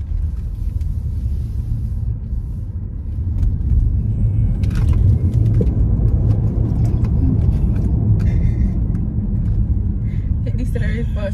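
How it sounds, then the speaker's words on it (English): A BYD electric car drives and decelerates, producing a steady low road rumble and tire noise from inside the cabin, growing slightly louder midway, with people talking over it. "When I come up the gas, it slows down the car and put charge back in the battery."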